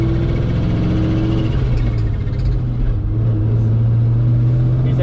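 A Ford Mustang engine pulls hard in second gear under boost, a loud, steady, close-up rumble and drone that holds throughout with no talking.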